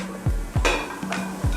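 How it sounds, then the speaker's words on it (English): Mushrooms go into a pan of softened celery and garlic, giving a few sharp clanks of utensil on metal and brief bursts of sizzle over a low steady hiss, close by. "Now that my celery has softened, I'm going to add the mushrooms"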